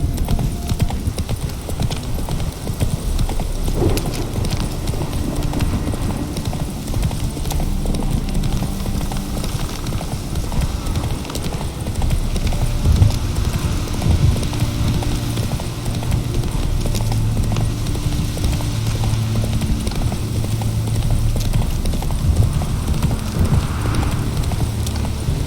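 Roach the horse gallops in The Witcher 3, hooves clip-clopping in a steady, continuous rhythm close by, over a low rumbling game ambience with no talk.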